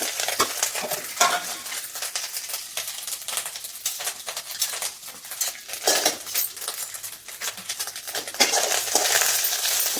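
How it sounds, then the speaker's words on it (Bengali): A spatula stirs taro with coconut and dried chilli in an oiled wok, making repeated scraping clatters and metallic knocks at an irregular rhythm, close and fairly loud over a faint sizzle. "তখন নারকেলটা দিয়ে ভালো করে নেড়ে নিচ্ছি"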